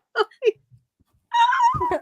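Cat meowing near a microphone during a birthday livestream, two short meows, a pause, then a longer drawn-out wailing meow, with faint low noises in between.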